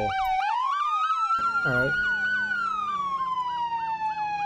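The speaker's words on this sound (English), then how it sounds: "The ambulance is here" Ambulance siren in the Roblox game ER:LC wails steadily up and down, loud and close, with rapid yelping sweeps layered over the long tone and a single brief spoken word.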